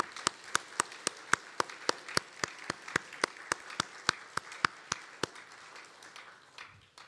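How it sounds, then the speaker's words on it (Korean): A church congregation at a Sunday service claps together in a steady, even rhythm, with sharp claps at regular intervals over a soft background of scattered clapping. The rhythm fades out near the end. "73년을 지켜주신 우리 하나님을 기억하며 우리 박수를 드리도록 하겠습니다."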